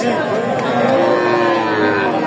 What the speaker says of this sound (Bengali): এই ষাঁড় বাচ্চাটা দেখান দেখান